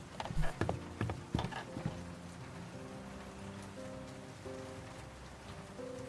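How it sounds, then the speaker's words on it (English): Rain in the World of Goo 2 video game falls softly and faintly, with a few louder drop-like taps at the start and a quiet sustained musical tone underneath. "The rain."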